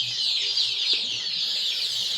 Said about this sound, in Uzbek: Hammasi sog'lom, hammasi zo'r jo'jalar.